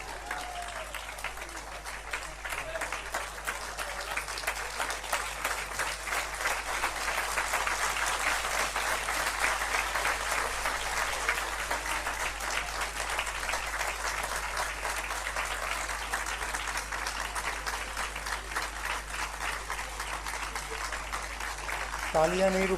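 A large audience at the close of a Tulsi Jayanti religious symposium keeps clapping in a steady, unbroken stream of applause that holds for over twenty seconds, heard from a slight distance.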